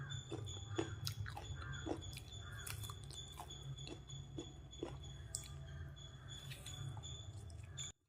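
Crunchy fried jackfruit chips eaten close up, with repeated crisp bites and chewing crunches over a faint steady hum, ending abruptly.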